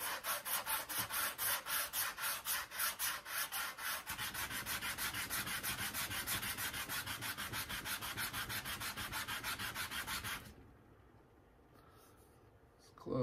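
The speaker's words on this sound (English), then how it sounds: "and we'll just sand away." Sandpaper rubs back and forth on wood during an acoustic guitar build, a close, rhythmic scratching of quick even strokes that runs for about ten seconds before stopping into near silence.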